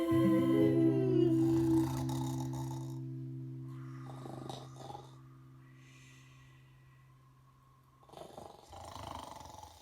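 A voice imitates snoring in a children's food song segment, beginning with a sustained hummed tone, then soft, quiet breathy snorts and snores at a slow, uneven pace.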